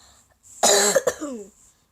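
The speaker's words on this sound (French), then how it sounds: "Je tousse" A single loud, close cough bursts out, followed by a brief raspy throat sound, in an otherwise quiet room.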